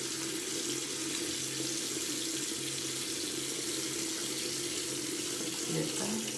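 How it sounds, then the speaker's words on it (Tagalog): Water runs from a bathroom tap into a sink in a steady, unbroken hiss that fills the whole stretch, close and fairly loud, with no talking. "Patay ko muna yung tubig"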